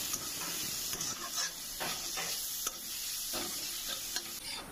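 Ground spices, red chilli, cumin, coriander and salt, stirred and fried in a pan for bread pakora filling, a steady close sizzle broken by repeated scraping strokes of the spoon, with no voices.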